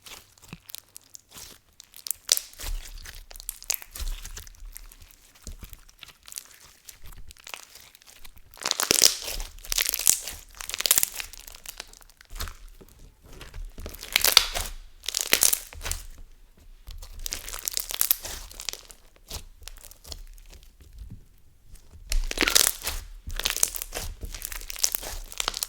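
Crunchy punk slime squished by hand in bursts, crackling and crinkling pops coming in several close, fairly loud bouts separated by quieter pauses.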